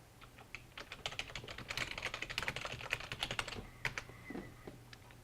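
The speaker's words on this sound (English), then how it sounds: "you could also just type in an address" Typing a web address on a computer keyboard: a quick run of soft, close key clicks in an irregular rhythm, fairly quiet, with a brief pause and a few final taps.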